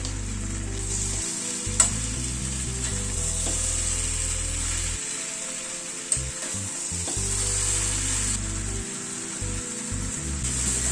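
A sweetened vegetable curry for roti and paratha fries and is stirred in a pan. A loud, constant sizzle fills the scene, broken by a couple of sharp spatula knocks against the pan.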